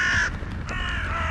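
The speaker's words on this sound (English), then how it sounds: "Look at our little crows today." Several crows caw at an outdoor morning feeding, harsh calls close and loud, a long one at the start then shorter caws repeating over steady background noise.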